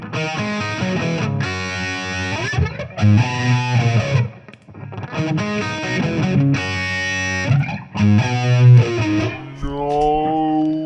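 An electric guitar played through an MXR EVH Flanger pedal in EVH mode rings out in loud, sweeping chords and sustained notes with a swirling, jet-like modulation, pausing briefly between phrases before a final held chord.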